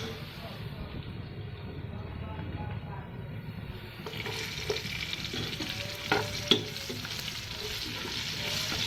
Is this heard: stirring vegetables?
yes